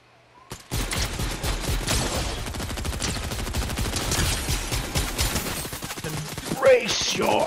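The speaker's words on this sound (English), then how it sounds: "Just giving suppressing fire." Rapid video-game gunfire laying down suppressing fire, a dense stream of loud shots running steadily for most of the stretch, with a brief voice near the end.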